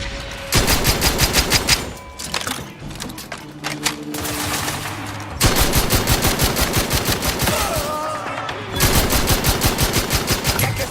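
Bursts of rapid automatic gunfire in the video game Outer Worlds 2, loud and close, with rattling volleys separated by short lulls full of game effects and music.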